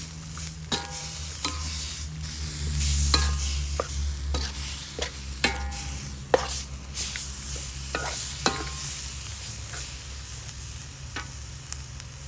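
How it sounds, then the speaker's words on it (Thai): Boiled chicken stir-fries in a wok with steady sizzling, punctuated by repeated sharp scrapes and clacks of a spatula against the metal. "ใส่ไก่ลงไปผัดก่อน กระทะครับ"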